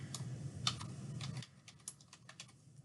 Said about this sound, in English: I'm going to type in best fit.